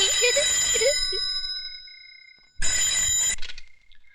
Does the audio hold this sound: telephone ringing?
yes